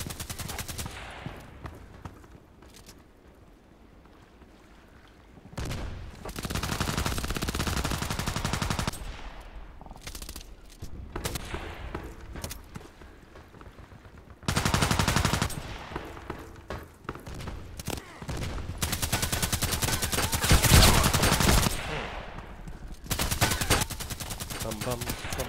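Glock pistol fire in Contract Wars comes in several loud bursts of rapid shots separated by quieter gaps, close and sharp, with a denser volley near the twenty-second mark.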